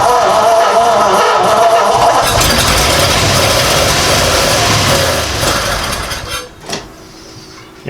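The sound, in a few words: 1937 Ford V8-60 engine running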